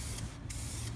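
Spray paint hisses from an aerosol can onto a lawn in short, steady bursts with brief pauses between them, close and clear.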